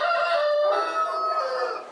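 A rooster crows in a loud, sustained call at a crowded animal shelter, its harmonic voice filling the full two seconds with no talk over it.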